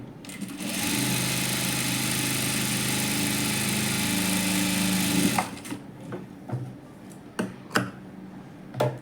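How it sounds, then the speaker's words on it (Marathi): Sewing machine stitching a princess-cut blouse, running in one continuous whirring burst for about five seconds, then stopping, followed by scattered clicks and fabric handling sounds. "एकदा शिवून घेतलं ह्याच्यावर दुसऱ्यांदा शिलाई मारून घ्यायची"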